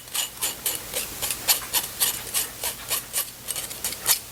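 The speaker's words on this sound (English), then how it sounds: "So I just take a spoon and just run it around, and it sifts just as good." A spoon run around inside a flour sifter, a rapid series of soft, rhythmic scraping rasps, close and moderately loud with no talking.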